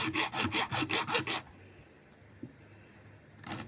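Rapid rhythmic rasping strokes of a saw cutting through wood, close and brisk, followed by a pause and another stroke beginning.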